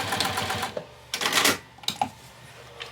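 A sewing machine stitches a makeup bag in short, close bursts, its rattling whirr starting and stopping several times as seams are back-stitched at each end.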